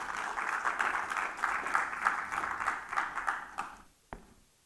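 A church congregation claps together in sustained applause at a Spanish-language service. The clapping fills about four seconds, then cuts off and leaves one sharp tap.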